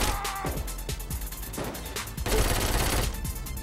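Rifle fire in the video game Saints Row IV, rapid repeated shots in quick bursts with crashing impacts, loud and continuous.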